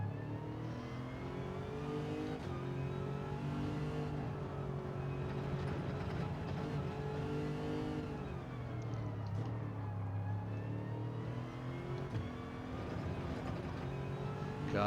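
Lexus RC F GT3 race car engine in Gran Turismo 7 at Lago Maggiore, steady droning note rising and falling through gear changes, continuous and fairly quiet with no talking.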